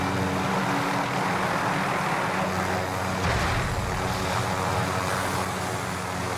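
A helicopter in the video game Call of Duty Warzone roars steadily and close, its dense engine and rotor drone filling the whole stretch without pause or change.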